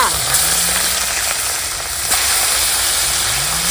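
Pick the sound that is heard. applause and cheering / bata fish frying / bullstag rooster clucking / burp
bata fish frying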